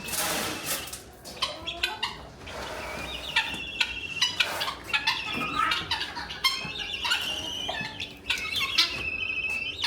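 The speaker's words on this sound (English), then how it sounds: "how is it going to be with the guinea noise?" Guinea fowl on a farm call in a loud, raucous chorus of repeated squawking cries, continuous and fairly close throughout, with no talking.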